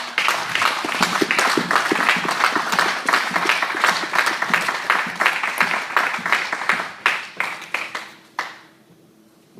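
A church congregation at a Sunday service applauds for pastor Nathan, close and lively clapping with sharp individual claps standing out, which tapers off to a few scattered claps and then near silence.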